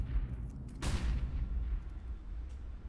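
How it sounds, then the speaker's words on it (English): HE grenades detonate near a main entrance during a professional Counter-Strike match: a sharp blast, then a rumbling low boom over the steady noise of the game. "Follow those HE grenades. There they go, 3 of them in towards main entrance."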